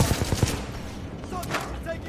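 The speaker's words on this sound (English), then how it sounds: "Who just shot at me from over here?" Rapid bursts of gunfire in the video game Titanfall 2, several sharp shots clustered at the start followed by scattered softer firing, with faint game sounds and chatter mixed in.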